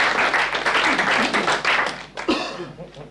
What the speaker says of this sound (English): Come down, people will clap once again.